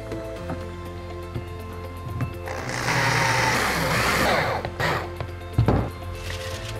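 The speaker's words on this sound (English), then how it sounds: "to help keep this in place, we're gonna put some screws on it" A power driver runs screws into the connectors of a DIY Halloween fog chiller, with a broad whirring burst in the middle of the clip among scattered clicks and clatters from handling the parts.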